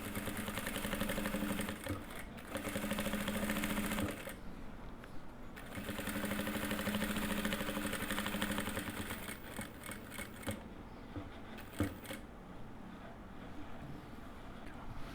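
Sewing machine running in long steady bursts while stitching a mitred-corner placemat along a guide ruler and foot, with short pauses between runs.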